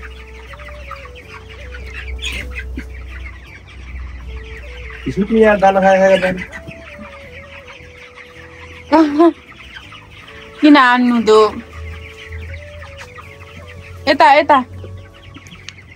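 Chickens cluck and squawk on a poultry farm in Nepal, with several louder flurries of clucking over steady background noise while people talk nearby.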